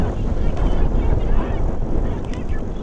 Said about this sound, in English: Wind is picking up here.